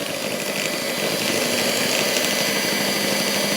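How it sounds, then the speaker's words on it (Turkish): An electric hand mixer runs steadily on its lowest speed while whisking a foamy batter for a milk-slice cake, giving a loud, close, unbroken motor whir with a rattling beater edge. "Şimdi çırpıcımı hafif çalıştırıyorum birinci devirde."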